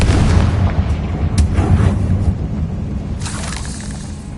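In a Hogwarts video game, a Confringo blasting spell detonates with a loud, booming explosion that rumbles on, with sharper cracks and debris bursts trailing through the decay.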